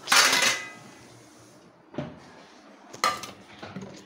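A plate being taken out in a home kitchen while milk boils for breakfast: a loud clatter of dishes at the start, then two sharper clinks about a second apart, with no voices.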